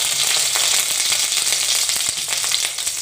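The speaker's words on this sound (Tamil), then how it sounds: "இந்த வெங்காயம், தக்காளி, மிளகாய், பூண்டு எல்லாத்தையும் கடாயில் போட்டு எண்ணெய் ஊற்றி வதக்கி எடுத்துக்க போகிறேன்" Dried chillies frying in oil in a kadai for tomato chutney, a loud dense sizzle with rapid crackles and pops running throughout, close and steady.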